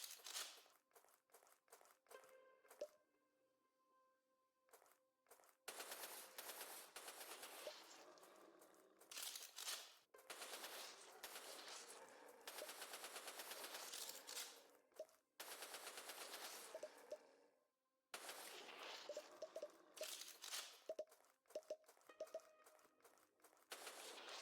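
Machine gun fire in the PC tower-defense horde shooter Ashes Remember Us, loud sustained bursts of rapid shots broken by brief pauses, layered with clinking, debris-like game effects.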